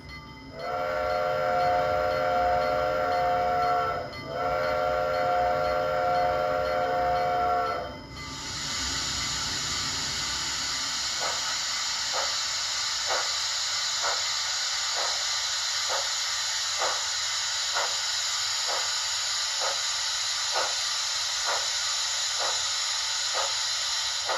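A Blackstone HOn3 K-27 model steam locomotive crawling slowly: steady steam hiss with a whistle-like tone at first, then a slow, regular chuffing that repeats evenly under continuous hiss.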